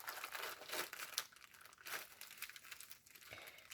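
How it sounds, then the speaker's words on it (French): Plastic packaging around sticker sheets is unwrapped up close, giving a steady run of crinkling and crumpling with a few sharper tearing rustles and no talking. "Je vous le déballe si j'y arrive"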